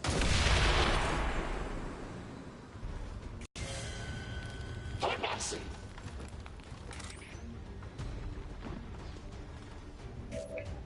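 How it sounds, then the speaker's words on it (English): A placed explosive detonates in the turn-based strategy game X-Com 2, a loud broadband blast at the start that rumbles and fades into quieter battlefield ambience. "Guys, have an explosion."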